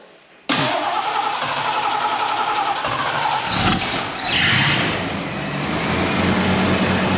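A 1974 Ford Ranchero's carbureted 351 Cleveland V8 catches abruptly after a half-second of quiet and then roars steadily at high revs, swelling briefly near the end, loud and close.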